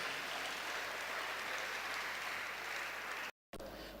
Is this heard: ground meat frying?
no